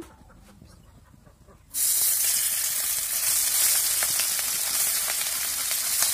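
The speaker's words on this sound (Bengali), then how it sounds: "মাছের মাথার লেজে লবণ হলুদ মাখিয়ে নিয়েছি, এখন হালকা করে ভেজে নেব।" Fish head and tail coated in salt and turmeric hit hot oil in a wok: after a quiet moment a loud, close, sustained hissing sizzle bursts in and continues steadily to the end, with no talking.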